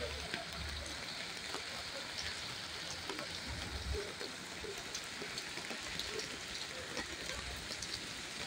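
Rain falls steadily beside a mosque in Tarsus, a dense, even hiss of drops on hard surfaces, continuous and moderately quiet with no clear voices.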